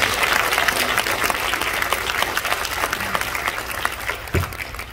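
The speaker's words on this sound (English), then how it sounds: "Let's give them another round of applause." Audience at a debutante cotillion ball applauds after a waltz, with dense, sustained clapping filling the hall and a faint scattering of crowd voices beneath it.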